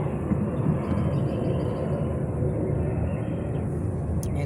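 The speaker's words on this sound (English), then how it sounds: "excuse the sound of the planes" A steady, broad rumble from airplanes flying overhead fills an outdoor garden, holding at a constant loud level for several seconds.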